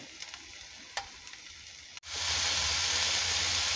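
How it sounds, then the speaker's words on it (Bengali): Red amaranth leaves are dropped into a hot frying pan. After a couple of quiet clicks, a sudden loud, sustained sizzle bursts out and holds steady to the end. "লাল শাকের পাতা দিয়ে একটু শাক রান্না করে নিব"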